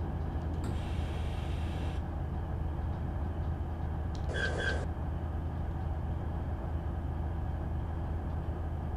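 A BR 612 Regioswinger diesel train runs in Train Simulator 2016, giving a steady low rumble throughout, with a brief high hiss near the start and a short bright tone midway.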